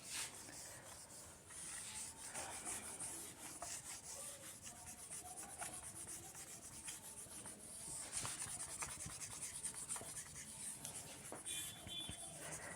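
An eraser rubs written maths working off a classroom board, giving faint scratchy back-and-forth strokes in irregular bursts with brief pauses, heard alone without talk.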